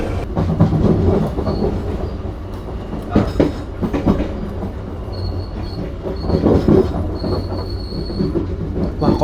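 A Dharmawangsa passenger train brakes, its wheels squealing in thin high whines over a loud, steady rail rumble and rhythmic clatter heard from on board.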